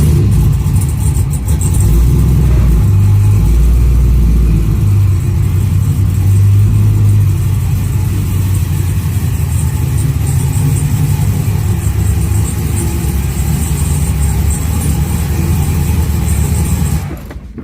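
A car with a failing clutch that no longer disengages starts, and its engine runs loudly with a deep, steady low rumble and uneven revving pulses, heard up close and alone with no talk.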